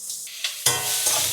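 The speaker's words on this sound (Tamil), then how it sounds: "சீரகம், அப்படியே வந்து வெங்காயமும் கேப்சிகமும் போடுறேன்" Cumin seeds, onion and capsicum hitting hot butter in a pan: a sudden burst of sizzling that grows into a steady, crackling fry, with faint stirring sounds before the food drops in.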